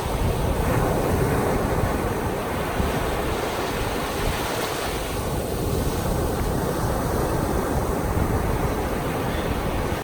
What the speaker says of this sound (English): We had a room facing the ocean, and I did wake up one morning early for this.